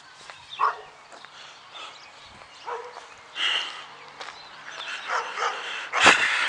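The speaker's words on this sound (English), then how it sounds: "I'm pretty sure you heard the dog." Dog in a residential neighbourhood, a few scattered barks and yelps at irregular intervals, the loudest and sharpest near the end, heard at moderate distance without talk.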